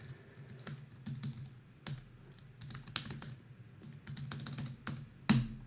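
Fingers tap out a test credit card number on a computer keyboard in quick, uneven bursts of crisp key clicks, fairly close and without talk.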